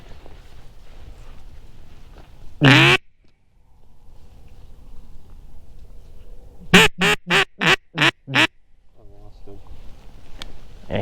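A few loud duck quacks ring out during a duck hunt on Kansas public land, one early and then a quick series of six, with quiet outdoor background between them.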